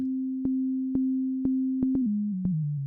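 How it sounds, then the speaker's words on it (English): A synthesized sine wave hums as a steady pure tone, its pitch stepping down lower toward kick drum range, with faint clicks marking regular repeats roughly every half second. "The first thing we can do to address that is to reduce the pitch of the sine wave"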